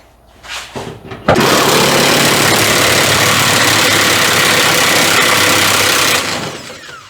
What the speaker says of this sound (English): we're going to have to cut that bolt because it ain't a moving